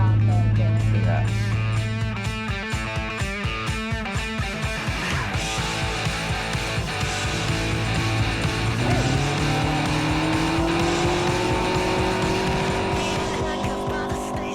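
Off-road vehicle grinding through Namibian sand dunes, its engine droning loud and steady with rising revs and gear changes, tires hissing through sand, and people talking over the cab noise.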